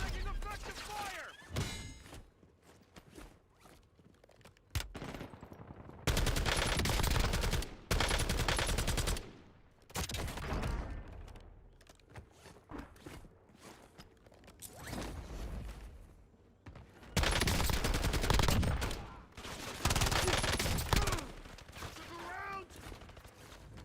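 Bursts of automatic gunfire rattle through a squad-based shooter game, several loud volleys a few seconds each separated by quieter stretches with scattered shots and game sounds.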